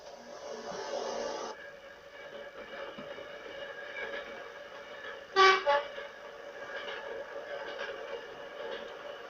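Diesel rail bus pulling away from Aviemore on the Speyside line, a steady running rumble with a short double horn toot near the middle.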